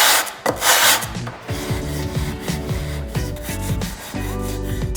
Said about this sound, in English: And I'm essentially just going to be like filing this angle.